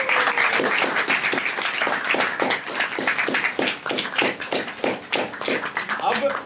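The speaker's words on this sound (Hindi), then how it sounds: "जोरदार तालियां" An audience at a Hindi comedy play stage event claps in steady, rhythmic unison, with sharp, close, evenly spaced claps throughout and voices talking underneath.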